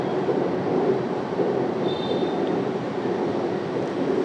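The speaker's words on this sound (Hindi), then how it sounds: "मेट्रो नहीं जाएगी, आई मीन नहीं रुकेगी जाने से" A Delhi Metro train rolls past near a college campus, a steady, loud broadband rumble that holds evenly for several seconds with no voices.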